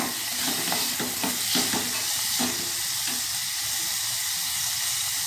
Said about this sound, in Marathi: व्यवस्थित कांदा आपण परतून घ्यायचा